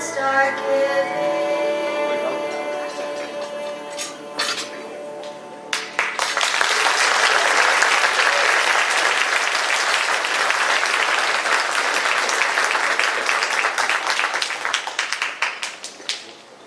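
Audience applause at an award ceremony breaks out after a choir's song fades, swelling into loud, dense clapping with scattered sharp individual claps that continues strongly before tapering at the end.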